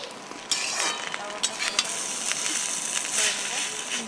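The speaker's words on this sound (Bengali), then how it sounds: "এবার মশলাটা ভালোভাবে মিশিয়ে নেব।" Noodles stirred with Maggi masala in a hot pan: close sizzling with scraping spatula strokes and a few sharp clinks against the pan, continuous throughout, with a voice speaking over it.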